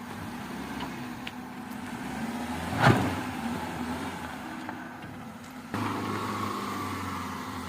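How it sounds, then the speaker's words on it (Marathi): A car engine idles steadily while being parked at a camping spot at night, a low constant rumble with a brief louder burst near the middle and a shift in tone toward the end. "सो पहिल्यांदा गाडी लावून घेतो."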